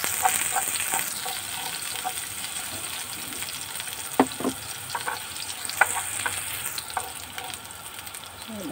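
Sliced onion sizzles steadily in a hot oiled pan for a home-style Filipino dish, a continuous frying hiss broken by a few sharp spatula scrapes and stirs.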